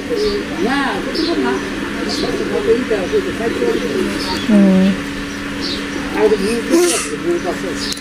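Pigeons coo repeatedly beside their nest, soft throaty calls rising and falling, while people talk over them.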